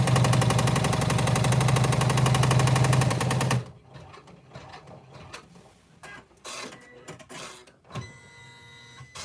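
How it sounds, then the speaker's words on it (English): A sewing machine runs in one steady, rapid burst of stitching as exterior bag panels are joined, a dense mechanical whir lasting several seconds before stopping abruptly, followed by quieter handling clicks and rustles of fabric. "take and stitch our first exterior panels together"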